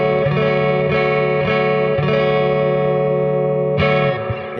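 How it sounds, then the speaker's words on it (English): A Fender Jazzmaster electric guitar played through its neck pickup rings out in sustained, full chords, with a few strums restruck and a compressed, slightly driven tone, loud and alone. "They definitely do sound a little more like the Antiquity 1 pickups to me, particularly the neck pickup."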